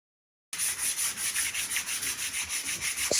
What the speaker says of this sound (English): we're going to give it a light sand, as these areas aren't so accessible once the webbing is attached